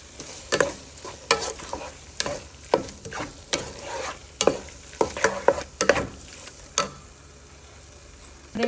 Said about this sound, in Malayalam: കുറച്ച് സോൾട്ട് പെപ്പർ, കുരുമുളക് പൊടിയും കൂടി കുറച്ച് ആഡ് ചെയ്തിട്ട് ഒന്നുകൂടി നല്ലോണം സോട്ട് ചെയ്തെടുക്കാം